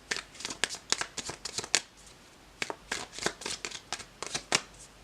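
Tarot cards being shuffled by hand, a rapid series of crisp riffling bursts in irregular clusters, close and fairly quiet, with no talking.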